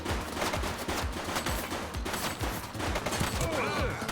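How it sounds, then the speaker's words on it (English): Sustained gunfire from a gun battle in The Precinct police game, rapid overlapping shots crackling continuously at moderate loudness, with a faint voice briefly heard near the end. "She's shooting!"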